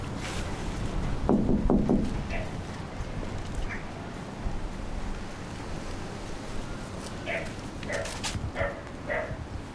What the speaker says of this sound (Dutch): Hondje blaft,